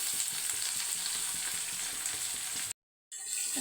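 Carrot palya sizzles steadily as it is stirred in a hot pan, a close, continuous frying hiss that cuts out briefly near the end and then resumes.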